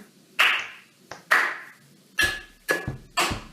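Two sharp hand claps ring out close by, followed by three quick knocks on a tabletop, each hit distinct and separated by short pauses, with no talking.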